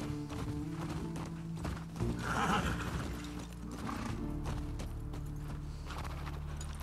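A horse in the video game The Last of Us Part II whinnies loudly in the middle, with clip-clop hoof steps and a steady low hum around it.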